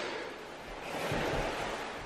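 Strong wind roars in a continuous broadband rush on the Milford Track mountain route in New Zealand, swelling slightly midway, with no voices.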